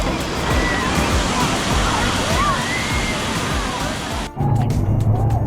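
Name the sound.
waves in the Volcano Bay wave pool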